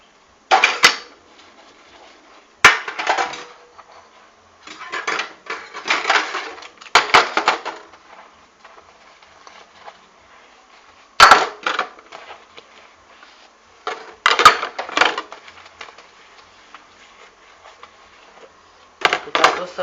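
Dishes, pots and cutlery are washed by hand in bursts of clattering, knocking and scraping, separated by quiet gaps, with a few sharper clinks of utensils against one another.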